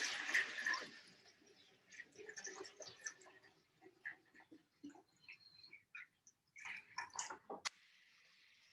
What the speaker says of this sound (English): you can very gently actually dump your sanitizer right into your carboy